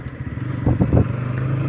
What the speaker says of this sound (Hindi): जिन भाई के पास NS बजाज पल्सर है, चलाने में कितना स्मूथ लगता है